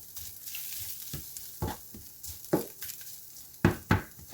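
Ground meat with spices cooking down in a pan, a soft steady sizzle punctuated by several sharp spatula scrapes and clacks that grow louder toward the end.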